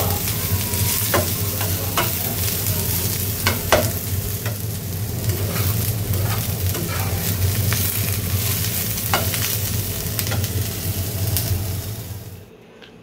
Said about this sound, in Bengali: আলু ভাজি করে রাখলাম